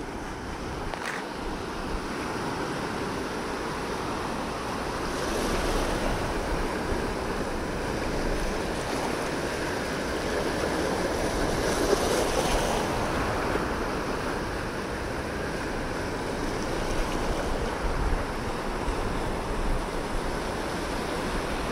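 Strong current and waves wash in a steady broadband roar, with wind buffeting the microphone and a few swells rising and falling over about twenty seconds.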